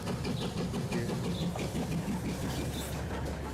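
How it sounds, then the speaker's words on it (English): Vintage engines of yesteryear run steadily near a railway tunnel, a low continuous rumbling drone with faint higher mechanical chatter, moderately distant and without talk. "just listen to the sounds of those engines"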